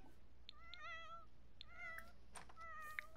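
Several cats meow in The Sims 4, overlapping short mews spaced through the clip, light and moderately quiet over a faint background hum.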